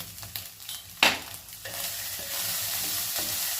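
White rice tossed into a pan with roasted egg for egg fried rice, starting with a sharp scrape and clatter of a spoon, then a steady close hiss of frying as the rice is stirred, with no talking.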